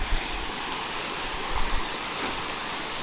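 A small waterfall on a trout stream gives a constant close rushing roar of falling water with slight surges, heard alone.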